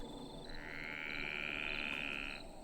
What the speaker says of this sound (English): I hear that frog.